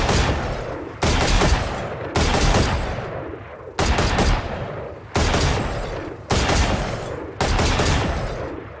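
Gunfire in the video game Valorant: seven loud, sharp shots, each with a decaying tail, fired at a steady pace roughly every second.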